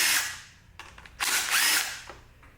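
A power driver spins out 3/8 blower shroud screws in short whirring bursts separated by brief pauses, close and fairly loud, with no talking.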